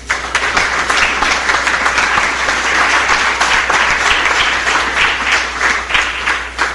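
Applause for the Lord from a church congregation during a Catholic Mass of healing and deliverance: a dense, loud, sustained wash of many clapping hands that holds steady throughout.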